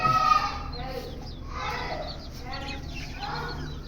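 Backyard chickens and chicks clucking in short bursts, fairly close, with other birds kept nearby.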